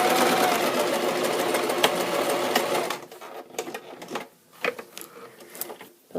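Sewing machine running steadily while stitching a fabric face mask, a continuous near whir for about three seconds, then stopping to leave quiet handling clicks and rustles of fabric and pins.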